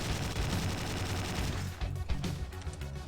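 Gunfire in the Slendytubbies video game, a sustained burst of rapid shots that thins into scattered bangs, heard alone with no talking.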